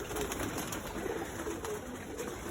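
Racing pigeons coo softly in low, rolling murmurs at feeding time, fairly close, over a steady background hiss with no talk.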